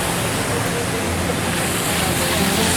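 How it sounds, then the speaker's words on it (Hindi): Ocean waves wash steadily at night beside a seaside pavilion in Kuala Lumpur, producing a loud, continuous broadband surf roar that stays dense and unbroken with no clear separate breaks. "लहरें।"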